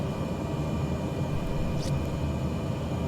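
Steady aircraft engine drone from a plane in Microsoft Flight Simulator 2020, a continuous low rumble and hiss with a brief higher whine partway through, no talking.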